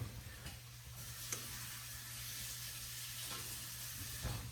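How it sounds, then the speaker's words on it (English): Onions sizzle and crackle in a frying pan with occasional scrapes of stirring, a steady soft hiss close by with no talking. "let's keep stirring those onions"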